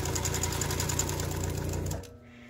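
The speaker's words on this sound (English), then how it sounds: "This is the sewing machine." A sewing machine whirs steadily with a rapid mechanical rhythm, then stops abruptly near the end, leaving a faint hum.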